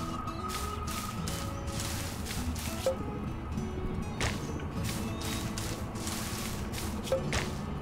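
Grass being struck repeatedly in the video game Portal Knights, a series of sharp swishing whip-like hits with squishy impacts at irregular intervals over a steady game background, with no talking.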